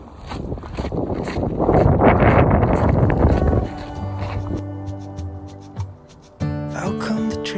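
Wind gusts outdoors in front of the Imperial Palace in Tokyo. Close buffeting rushes against the microphone for about three seconds, then fades under a steady background tone, with a brief return of the gusts near the end.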